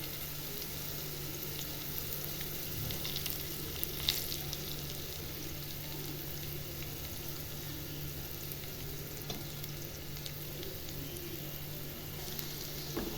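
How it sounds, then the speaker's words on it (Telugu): Smashed garlic fries in hot oil with a continuous, even sizzle close by, broken by a few faint clicks and pops, with no voices over it. "బాగా గోలిన తర్వాత మెత్తగా స్మాష్ చేసుకున్న, అంటే దంచి పెట్టుకున్న వెల్లుల్లిపాయలు వేయాలి"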